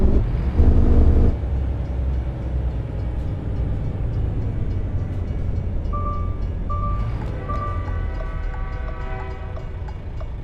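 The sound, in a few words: train passing in American Truck Simulator video game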